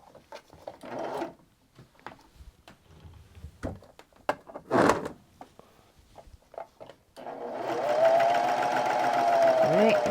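A sewing machine stitches denim for a hanging pocket organizer, starting from the edge. It runs as a loud steady whir for the last few seconds after a stretch of handling clicks and a voice speaking.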